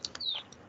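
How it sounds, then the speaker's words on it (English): Birds chirp in the background outdoors, with a couple of short tweets and one clear descending whistled note, faint and brief. "I love hearing the birds in the background."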